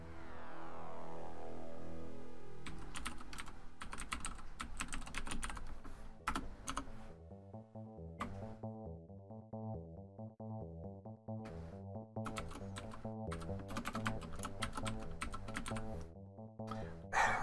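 Computer keyboard typing during a session of the PC game X-COM: UFO Defense, a steady run of close, quiet key clicks in uneven bursts over a sustained background tone of game music, with no talk.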